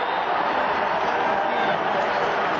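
A football stadium crowd at a Green Bay Packers versus New York Jets game roars steadily after a sack, a dense, sustained wall of cheering with no break and no clear voices standing out.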